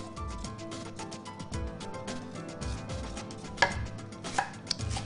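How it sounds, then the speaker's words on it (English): Big knife rough-chopping a vegetable straight down on a board, a quick series of close, crisp thuds in uneven rhythm with a few sharper knocks, no talk. "nice rough chop, straight down"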